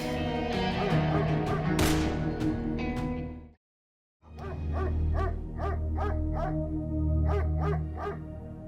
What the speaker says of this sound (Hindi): इस कुत्ते ने मेरी जिंदगी अजाब की हुई है। उसे तो रखा ही भौंकने के लिए